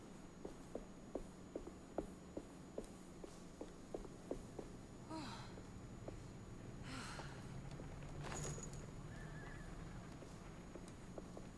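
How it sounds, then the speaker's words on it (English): A horse in the Alone in the Dark video game clip-clops in a steady, even rhythm, then breathes and whinnies in a few short bursts over a low, eerie ambient drone, all moderately faint. "Is that a horse?"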